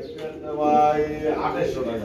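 Pigeons coo softly at a Bangladeshi pigeon seller's stall, low murmuring calls mixed with nearby chatter and market noise over about two seconds.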